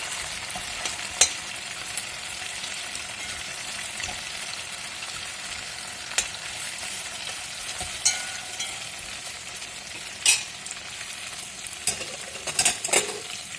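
Meat sizzles steadily in a hot pan, with occasional clinks and scrapes of a utensil stirring through the sputtering oil.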